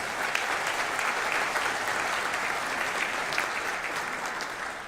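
Audience applause for the mayor's wife at a high school event, a dense steady clapping from a crowd that holds for several seconds before easing slightly.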